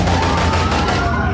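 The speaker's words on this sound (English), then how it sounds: "They jumped out the car and started shooting." Rapid continuous gunfire erupts as men jump out of a car and open fire at a popular hangout at night, a dense loud burst of shots with no break.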